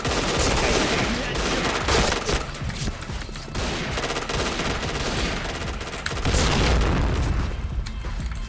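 K2C EBR rifle firing in the shooter game Point Blank, loud dense bursts of rapid gunfire with booming impacts that continue almost without pause, alongside further shots and battle noise.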